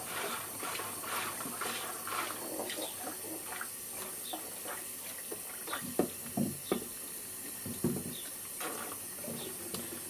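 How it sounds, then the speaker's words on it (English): Tap water runs steadily over a 16mm film developing tank for washing. It makes a continuous hiss with small splashes and a few clunks of the tank being handled. "you want to wash it thoroughly until there's no trace of that yellow colour anymore"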